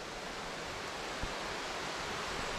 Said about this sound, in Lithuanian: Žodžiu, lietus įsismarkavo